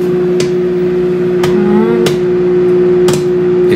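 Bagged popcorn pops inside a running microwave: a steady electrical hum with four sharp, well-spaced pops over a few seconds.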